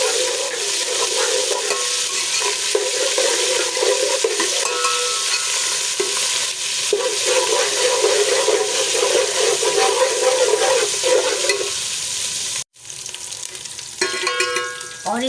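Ginger garlic paste fries in hot oil for chicken biryani, giving a loud continuous sizzle with shifting stirring noise. It briefly cuts out near the end, then resumes with scraping.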